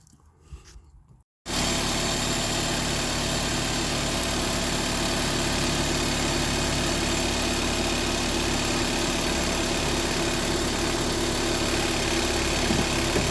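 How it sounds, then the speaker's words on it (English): A Honda Civic 1.7 VTEC engine is started and left idling, a steady, loud, broadband running drone that holds evenly for over ten seconds after a brief quiet lead-in, with no talking. "We're gonna start the engine up, run the same test"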